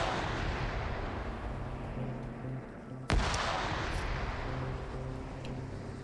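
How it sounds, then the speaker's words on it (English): A grenade goes off in a competitive online shooter match as one sharp, loud burst midway through, with steady game noise and background hum continuing before and after. "Perfect grenade on Dust, bouncing off his legs and landing it right on him."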